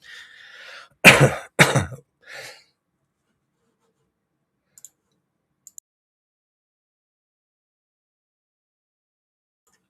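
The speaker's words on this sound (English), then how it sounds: "I needed to cough there" One person coughs close to the microphone: a short throat-clearing rasp followed by two sharp loud coughs and a softer one, then near silence with a couple of faint ticks.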